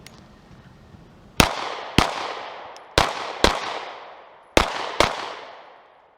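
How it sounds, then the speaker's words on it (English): Pistol shots fired in pairs at targets on a shooting range, six sharp, loud bangs in three evenly spaced doubles, each with a brief echoing tail, and no voices. "What I'm going to do is 2 shots, 2 shots, 2 shots."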